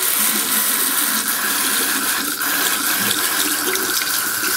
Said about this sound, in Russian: Включаем холодную воду.